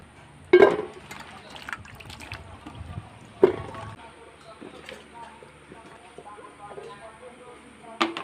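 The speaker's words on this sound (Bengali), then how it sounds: "এবার আমি পটল আলুগুলো ধুয়ে নেব" Chopped pointed gourd and potatoes are washed in water, with soft splashing and sloshing and a few sharp knocks against the bowl, all under a voice speaking.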